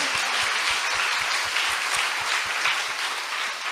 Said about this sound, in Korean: 박수로 하나님께 영광.